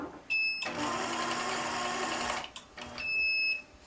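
Computerized quilting machine running its stitching pass at about one inch per second, a steady mechanical whir with rapid needle rhythm lasting roughly two seconds, bracketed by brief high electronic tones before and after, no talk.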